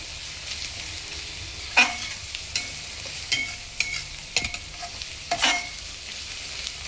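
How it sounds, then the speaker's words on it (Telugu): Ginger garlic paste fries in a pan with a steady low sizzle, broken by occasional sharp scrapes and taps of a stirring spoon. No one speaks. "అల్లం వెల్లుల్లి పేస్ట్ లైట్గా వేగిందండి"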